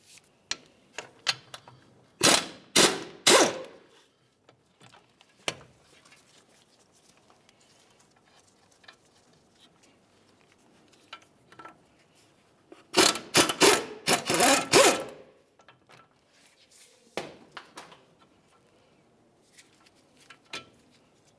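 Bursts of rapid ratcheting clatter from an air tool loosening 21mm caliper bolts on a 2005-2010 Dodge Dakota front brake, two main runs separated by quieter clicks and handling noises, close and loud, no talking.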